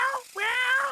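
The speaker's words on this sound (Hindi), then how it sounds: "हे, काली बिल्ली!" A black cat in a Hindi-dubbed Doraemon cartoon gives two close, clear meows, a short one followed by a longer, drawn-out one.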